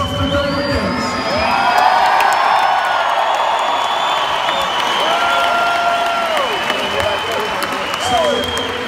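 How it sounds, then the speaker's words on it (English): At a basketball game, a postgame celebration crowd in the seats keeps yelling, cheering and whooping, a loud, sustained roar with rising and falling shouts that fills the space. "Bodies in seats yelling, screaming at 72-20"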